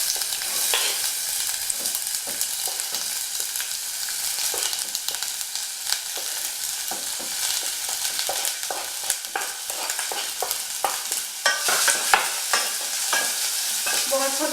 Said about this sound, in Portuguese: Vou afogar a cebola um pouco até começar a ficar transparente